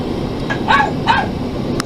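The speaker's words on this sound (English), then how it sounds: "Quiet, dog!" A dog barks twice in short bursts, about a third of a second apart, at moderate distance over steady background hiss in a household setting.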